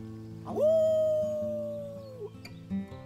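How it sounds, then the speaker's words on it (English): A sustained, wavering wolf howl from game characters in Life is Strange 2, one long rising-then-falling cry lasting about two seconds, followed by short faint sounds. "Let's start with our team howl."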